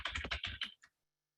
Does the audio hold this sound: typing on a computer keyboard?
yes